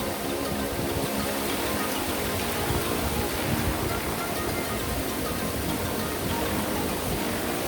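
Steady rain falls after a long dry spell, a dense, even hiss of drops on surfaces that holds at an unchanging level throughout with no pauses.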